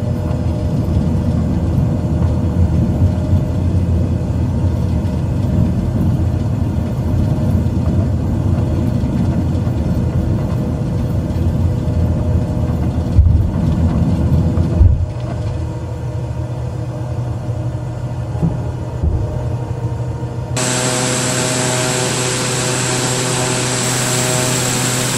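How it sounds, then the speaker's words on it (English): A simulated aircraft departs runway 15 at Nebraska City Airport under clear skies, producing a loud, continuous engine roar with a steady rumble. Partway through, a higher steady tone joins the drone. No talk is heard. "The aircraft departs Nebraska City Airport on runway 15 at noon hour under clear"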